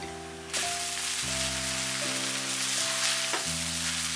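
Chicken and napa cabbage fried rice stir-frying in a pan, giving a steady, close sizzle that runs throughout, with sustained musical tones playing alongside.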